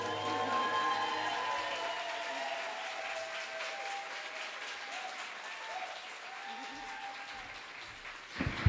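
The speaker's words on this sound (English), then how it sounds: "Can we have one more round of applause for Shelly Thomas, please?" An audience applauds at a CreativeMornings New York talk event, a sustained wash of clapping that slowly thins over several seconds, heard alone.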